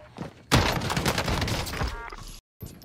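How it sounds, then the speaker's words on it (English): Gunfire in the Warzone video game, a dense burst of loud, close shots and impacts lasting about two seconds before cutting off sharply, then resuming briefly. "I'm taking fire."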